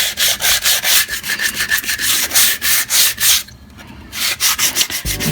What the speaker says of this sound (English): I think the grit on this particular sandpaper is 100